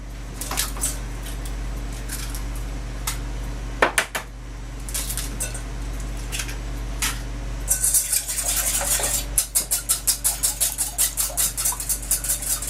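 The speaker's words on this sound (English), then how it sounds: "We're going to whisk the wet ingredients together first." Wet batter of milk, oil and eggs being whisked in a bowl, a steady clatter of the whisk against the bowl that quickens into fast rhythmic strokes toward the end, with no talking.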